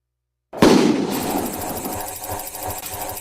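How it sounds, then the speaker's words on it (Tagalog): A firecracker bursts with a sharp, loud blast that launches a tin can into the air, followed by a noisy, crackling outdoor tail with scattered rustles and clatter. "Pre, paliparin natin tong lata gamit tong paputok."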